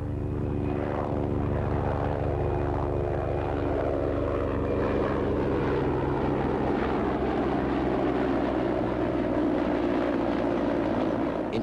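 A Mi-24 military helicopter flying aerobatic manoeuvres, its engine and rotor roaring loud and steady throughout, the pitch and tone shifting slowly as it passes through the manoeuvre.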